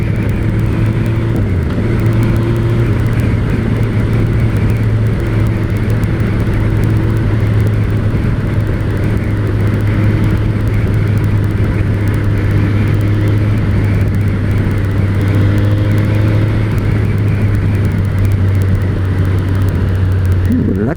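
A 2006 Suzuki GSX-R 1000 K6 motorcycle accelerating hard on a ride, a loud steady engine drone with rising whine held close throughout, wind rumble beneath.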